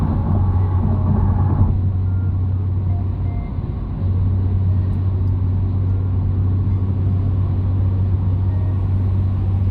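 A 2022 Genesis G70 Launch Edition cruises on the highway, giving a steady, loud low engine and road rumble with constant tire and wind noise inside the cabin and no talking.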